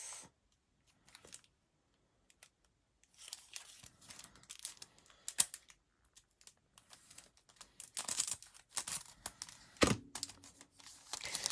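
Packaging for a set of cloth and paper page markers is cut open. Faint scattered clicks give way to busier rustling, crinkling and tearing of plastic and paper, with one sharp louder snap near the end.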